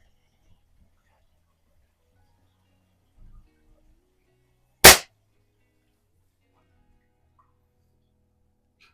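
A JTS Xisico XS46U underlever spring air rifle fires once, a single sharp loud crack near the middle of an otherwise quiet stretch, preceded by a faint brief rustle.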